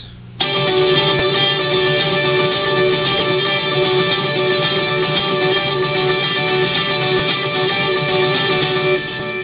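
Electric guitar playing a rhythm part, alternating back and forth between two chords with delay effects on, a steady shimmering pulse of repeated notes sustained throughout, loud and alone.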